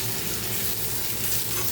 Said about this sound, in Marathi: कढईत जिरी मोहरी आणि कांदा परतायला टाकलेला आहे